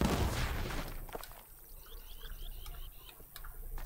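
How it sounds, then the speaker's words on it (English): Two barrels explode together in the Castle Story video game, a loud burst at the start that trails off into scattered crackles and light debris ticks. "That's a significant explosion with 2 of them."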